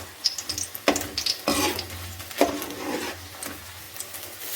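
Egg omelette bajji fritters crackle as they fry in hot oil, a close, steady sizzle with scattered pops and a few sharper spatters and scrapes, alone without voices.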